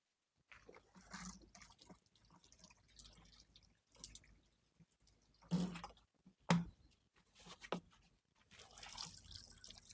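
Water is poured over the soil of a repotted Ficus microcarpa bonsai, with soft trickling and drips broken by a few sharper splashes and gurgles, quiet and close with no talking.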